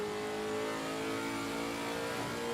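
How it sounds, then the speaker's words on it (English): Lexus RC F engine in Assetto Corsa Competizione, a loud, steady high-revving drone with a smooth sustained pitch and no break. "Love the sound of this car."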